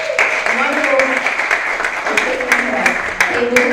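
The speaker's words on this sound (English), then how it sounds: "everybody a round of applause" An audience at a college mental health speaker series applauds the speakers, steady clapping running under a voice speaking over it.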